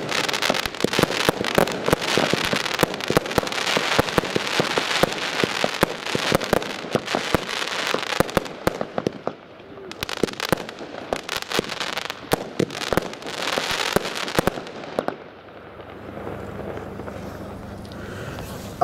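A Nightstar fireworks star battery fires fifteen shots in a rapid string of loud bangs and crackles, before fading to a low rumble at the end, at a fireworks demonstration in Witten.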